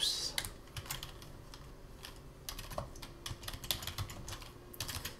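Typing on a computer keyboard while editing code, close, crisp keystrokes in irregular bursts and pauses with almost no talking over them.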